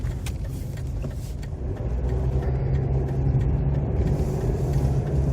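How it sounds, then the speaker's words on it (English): A car comes up from behind on a road, a steady engine and tire rumble that swells gradually louder over several seconds, with no talking. "car's coming up on me quick"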